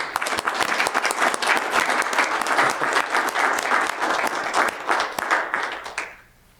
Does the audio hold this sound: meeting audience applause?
yes